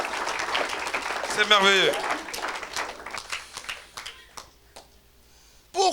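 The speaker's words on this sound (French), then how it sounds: "Acclamez pour ça." A church congregation at a Sunday worship service breaks into applause and cheering while a preacher speaks over it. The clapping fades and then a short loud burst returns at the end.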